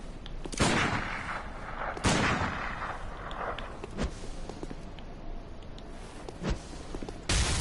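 Gunshots in the video game Bloodborne, several loud sharp blasts at uneven intervals with short echoing tails, alone without talk.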